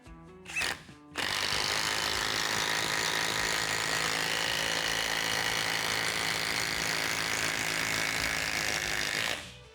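A Procraft Industrial cordless impact driver on fourth speed drives a 240 mm long, 8 mm bolt: a brief burst, a pause, then a loud, close, continuous hammering whir lasting several seconds before stopping.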